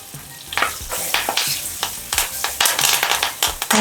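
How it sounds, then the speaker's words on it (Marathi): Curry leaves are tempered in hot oil for tomato saar, giving a loud, constant crackling sizzle up close, with repeated spoon or ladle taps as the pan is stirred. "आता हा कढीपत्ता किंवा कढीलिंब आपण ज्याला म्हणतो तो घातलाय"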